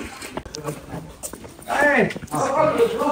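A village dog at a relative's home whining and whimpering close by in short high cries, mixed with people talking and calling to it.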